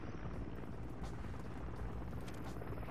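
Helicopter in the Modern Warfare 3 video game, a dense, constant rotor and engine roar filling the scene, loud and unbroken with faint rumbling impacts underneath.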